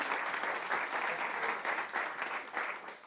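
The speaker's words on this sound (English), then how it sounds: "I want to take the opportunity also to ask you for all applause for Anna" A conference audience applauds a plenary speaker named Anna, sustained crowd clapping with a slightly rolling intensity that carries evenly throughout without any voices.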